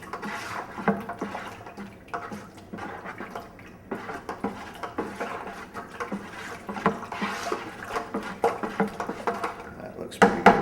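Plastic paddle stirring wine kit must and relatively warm water in a fermenting bucket, giving continuous sloshing, swirling liquid with irregular splashes that grow busier toward the end.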